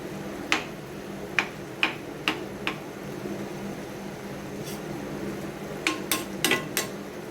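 Spatula scraping and tapping in a pan of ridge gourd fried with fish roe and garam masala, a few sharp clinks spaced apart, then a quick cluster near the end, over a low steady sizzle.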